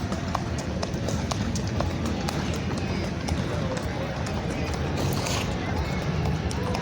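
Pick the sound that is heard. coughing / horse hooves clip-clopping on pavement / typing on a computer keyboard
horse hooves clip-clopping on pavement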